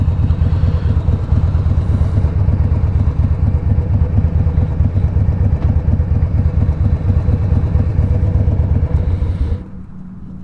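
A 2006 Harley-Davidson Fat Boy motorcycle with spoke wheels rumbles steadily while being ridden, its loud, close engine sound holding constant before dropping away near the end.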